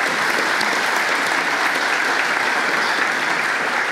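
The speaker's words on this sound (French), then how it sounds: "on vous applaudit." An audience at a science lecture at the Observatoire de Paris applauds, giving dense, even clapping that stays loud and steady throughout with no break.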